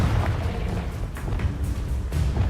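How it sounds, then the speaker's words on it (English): Confringo blast spells fired in Hogwarts Legacy, a dense run of booming bursts and rumbling impacts packed close together and loud across the whole stretch. "Confringo."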